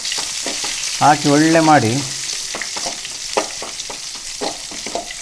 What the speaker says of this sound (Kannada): ಒಂದು ಸ್ವಲ್ಪ ಕಲರ್ ಕೆಂಪು ಆಗುವಷ್ಟು ಫ್ರೈ ಮಾಡಬೇಕು ನಾವು ಅದನ್ನು